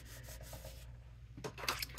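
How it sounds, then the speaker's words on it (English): A burnishing tool rubs across a folded paper card for a tri-fold shutter card, giving soft scraping strokes that sharpen into brisker, brighter rasps toward the end; close and fairly quiet, with no talking. "I'm going to burnish it."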